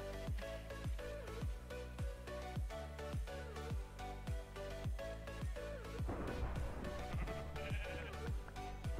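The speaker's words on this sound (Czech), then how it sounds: "Ovce, jídlo." Sheep bleat in the Minecraft video game, repeated short bleats over a busy, loud game soundtrack with rhythmic musical hits.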